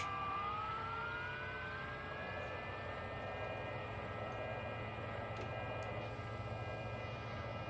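A TBM 900 turboprop in X-Plane 11 at taxi power, giving a steady, even engine drone with a rising whine layered over a constant low rumble, heard alone and at a moderate level.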